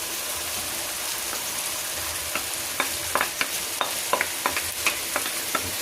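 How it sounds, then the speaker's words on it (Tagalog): Bagoong (shrimp paste) frying in a pan, a steady close sizzle broken by a run of sharp scraping stirs and clatters in the second half, with no voices. "Lagay na natin yung bugong natin."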